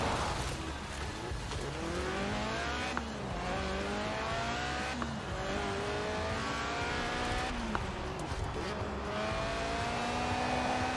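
Lotus Elise Sport 190, a lightweight car with a 1.8-litre 190-horsepower engine that revs to 8,000 rpm, in Forza Horizon 4: loud, continuous revving whose pitch climbs and drops repeatedly through gear changes, with no talk.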